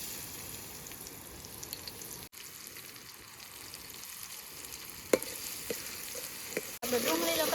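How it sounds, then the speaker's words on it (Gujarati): Chopped onions sizzle and crackle steadily in hot oil in a home kitchen pan, with a few sharper pops and stirring clinks toward the end and a louder burst of frying in the last second. "તેલ ગરમ થઈ ગયું છે ને આપણે પહેલા નાખવાની છે ડુંગળી."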